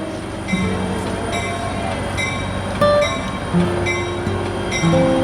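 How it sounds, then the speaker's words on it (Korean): The Agawa Canyon tour train in Sault Ste. Marie, Ontario, rumbles into a station with a steady rail drone, sustained horn-like tones and brief squeals sounding repeatedly over the moving cars. "여명을 뚫고 드디어 기차가 경적을 울리며 역으로 들어오기 시작하면"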